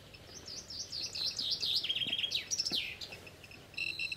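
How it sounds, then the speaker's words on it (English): Birds singing in the Chernobyl area in summer, a clear run of quick, bright chirping phrases close by, one singer's rising and falling notes over a quiet outdoor background. "Let's listen to the birds sing."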